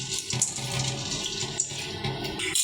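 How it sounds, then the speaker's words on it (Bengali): Masoor lentils and corn are rinsed under running water, a steady rushing splash of tap water with small sloshing surges as the grains are handled in a bowl. "আবারও এগুলো একসঙ্গে করে নিয়ে এখন ধুয়ে নেব"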